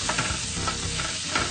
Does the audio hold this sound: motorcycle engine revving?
no